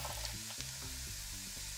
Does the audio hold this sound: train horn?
no